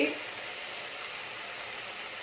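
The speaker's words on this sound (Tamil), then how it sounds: "வெங்காயம் தக்காளிலாம் வதங்கிடுச்சு" Onions and tomatoes sauté in a pan as the base for a village-style dried fish and tapioca curry, giving a steady, even sizzle that holds at a constant low level with no talk.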